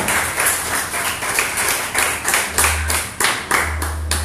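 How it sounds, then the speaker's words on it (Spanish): A church congregation applauds during a Spanish-language service, a dense crowd of clapping hands with a loose rhythmic pulse, loud and close, sustained throughout. "Den un aplauso al Señor."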